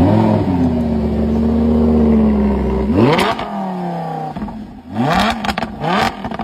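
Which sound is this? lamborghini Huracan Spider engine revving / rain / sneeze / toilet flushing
lamborghini Huracan Spider engine revving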